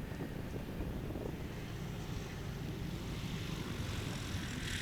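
A de Havilland Beaver floatplane on short final at a swamp STOL practice in Jennings, Louisiana, its propeller engine a faint, steady distant drone.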